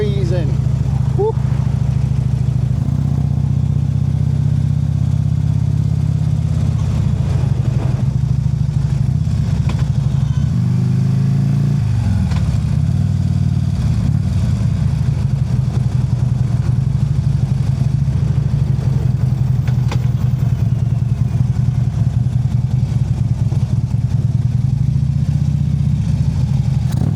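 Harley-Davidson motorcycle engine on a cold-day commute, a steady loud low rumble close up throughout, with a brief shift in pitch midway like a gear change.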